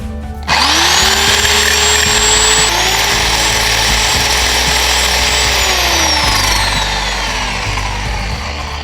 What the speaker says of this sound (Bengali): তো গাইস এখানে কাঠটা আমরা কেটে দেখি